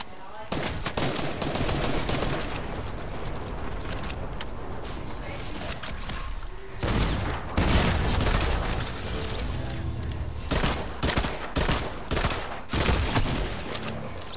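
Gunfire in Fortnite, with dense rapid bursts of automatic fire and single shots repeating throughout, loud and close, with a few heavier booming hits along the way.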